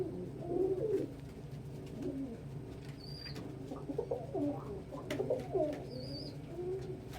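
Pet pigeons or doves cooing in low, rolling bursts, several birds overlapping at close range, with a few faint high chirps above and no talking.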